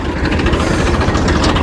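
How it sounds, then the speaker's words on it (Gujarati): Two tractors idling together at a farm field, a loud, steady low rumble of engines running close by with no talk. "તો બે ટ્રેક્ટર ભેગા થઈ ગયો"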